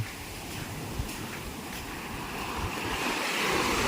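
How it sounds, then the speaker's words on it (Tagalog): Ocean waves washing in continuously at night on the baywalk in Puerto Galera, with wind rushing over the microphone, the surf swelling louder toward the end. "Walang patid na alon."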